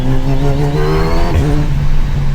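A Kawasaki Versys 1100 SE inline-four adventure motorcycle engine hums loudly and steadily, rising slightly in pitch as throttle is applied, with a smooth continuous drone close by.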